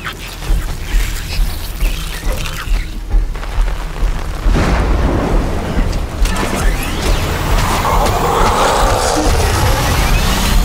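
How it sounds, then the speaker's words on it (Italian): A thunderstorm in the video game Death Stranding: steady heavy rain hiss with deep rumbling thunder swells, loud and continuous, growing denser partway through. "Ha proprio una tempesta."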